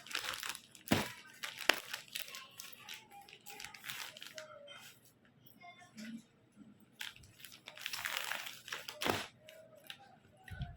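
A packaged printed clothing suit is opened and unfolded, giving close, repeated crinkling of plastic and fabric in bursts with quieter gaps, while someone talks softly in between.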